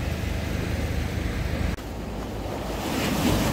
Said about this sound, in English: this lovely, fairly calm Irish Sea, which is now playing with the steps